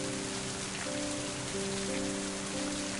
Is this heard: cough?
no